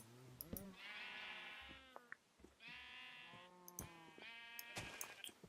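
Sheep in Minecraft bleat repeatedly, three long wavering bleats plus shorter ones overlapping, close and clear with small clicks and thumps between, no talking.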